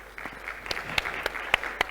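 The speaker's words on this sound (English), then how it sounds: "Please give them a round of applause." An audience at a panel discussion on political financing and corruption gives a round of applause. The clapping is moderate and fairly distant and continues throughout the short clip.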